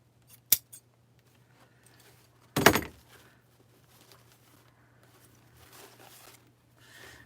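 Scissors give two sharp, close snips, a small one and then a louder one a couple of seconds later, as the stems of a lemon wreath kit are cut shorter, with near silence and faint handling between.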